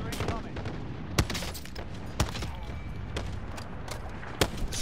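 Sniper rifle shots in a Call of Duty: Modern Warfare match ring out as single sharp cracks spaced about a second apart, four or five in total, over ongoing game background noise.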